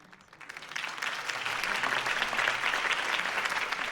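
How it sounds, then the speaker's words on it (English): Crowd applause from the game Batman: The Telltale Series swells after a quiet start and holds steady, a dense wash of many hands clapping with scattered cheers. "could have heard that applause"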